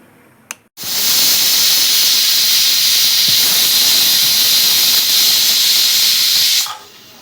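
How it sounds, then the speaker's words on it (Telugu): Pressure cooker whistle releasing steam while cooking ghee chicken pulao, a loud continuous hiss lasting several seconds after a short click, heard close and alone. "గీ చికెన్ పులావ్ రెడీ కావడానికి మనకు 3 విజిల్స్ అండి"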